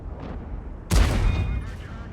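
A heavy tank cannon shot in World of Tanks, a sudden loud boom that decays over about a second, preceded and followed by quieter engine rumble and faint distant firing.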